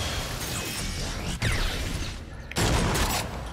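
Enemy gunfire in Agents of Mayhem: rapid volleys of shots and crashing impacts, loud and dense, with sharp bursts breaking out midway and continuing to the end, no talk.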